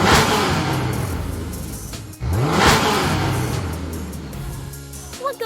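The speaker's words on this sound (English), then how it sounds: "What goes vroom vroom and zooms away? Yay, you guessed it right! A car engine!" A car engine revs hard and roars off, loud and close, in two strong surges with a brief cut between them, then fades slightly as it pulls away.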